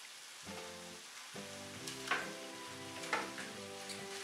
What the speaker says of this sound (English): The next thing to do is to add your veg.